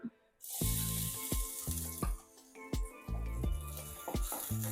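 Cut onions hitting hot oil in a kadai, a sudden loud sizzle that keeps crackling and hissing, broken by several sharp knocks of a spoon against the pan.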